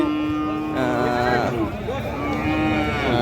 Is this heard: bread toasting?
no